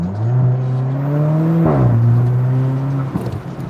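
A car engine hums steadily while driving, its pitch rising as it speeds up, briefly dipping around a gear change and then climbing again, close and continuous with no voices.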